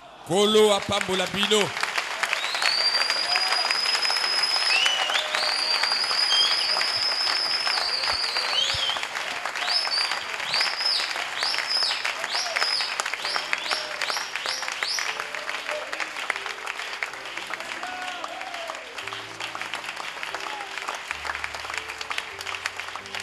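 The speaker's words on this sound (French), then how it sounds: "acclamons très très très fort" A church congregation applauds loudly during a service, with dense sustained clapping for about fifteen seconds that then thins and fades beneath a voice and music.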